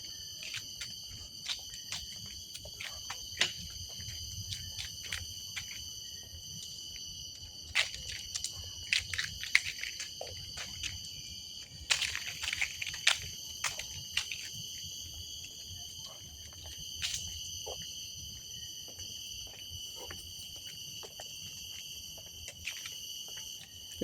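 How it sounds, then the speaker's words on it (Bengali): Steady, shrill chirping of crickets in the forest at Labrador Park, Singapore, forming a continuous high drone throughout, with scattered faint clicks and rustles. "ঝিঝি পোকার ডাক,"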